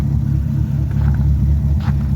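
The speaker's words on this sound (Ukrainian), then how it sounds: "Не знаю наскільки вистачить цього двигуна так носитися, він їде." A rear-wheel-drive Opel Calibra with a turbocharged C20NE engine drives along, a loud, steady low engine drone and rumble heard close from inside the car.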